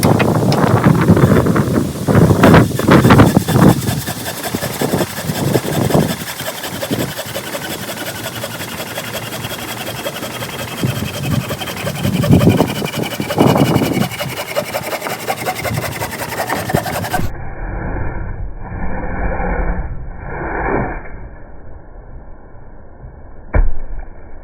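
A slightly dull hand saw cuts through wood in rough, rhythmic rasping strokes, loud and close, with wind buffeting the microphone. The sawing stops partway through, leaving a quieter, muffled stretch.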